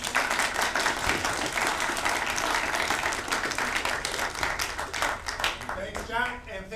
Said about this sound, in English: I can now get ready to applaud.